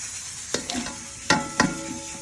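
Onions going into hot oil in a pot for beef pulao, giving a few sharp crackling sizzles and stirring clatters over a low steady frying hiss, close by with no talk.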